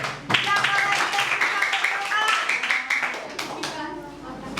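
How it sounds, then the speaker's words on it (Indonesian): Children in a classroom clap their hands in a short burst of sharp slaps, mixed with young voices talking and chanting over the clapping. "Oke, tepuk tangan."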